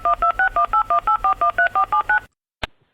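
Telephone keypad tones dial a call: about a dozen crisp two-tone beeps in a quick, even rhythm, followed by a brief silence and a single sharp click, close and clear.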